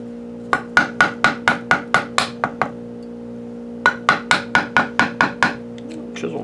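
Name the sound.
sharp tap on a chisel cutting pinewood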